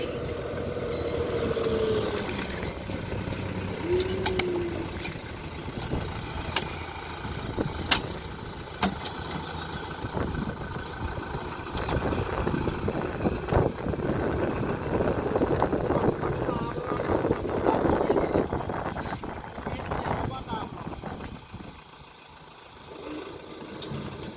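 Deutz Fahr 4090E tractor engine working steadily while filling a trench, a continuous mid-range rumble with occasional knocks and clatter, fairly close, with voices talking over it at times.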